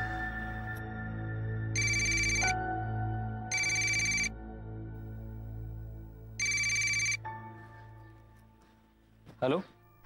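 A telephone rings in three short electronic bursts over a sustained musical backdrop, clear and close, with a brief sweeping sound near the end.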